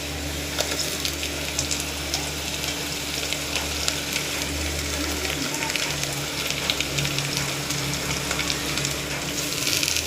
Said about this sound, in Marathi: आता त्याच्यामध्ये टॅमॅटो टाकूया आपण.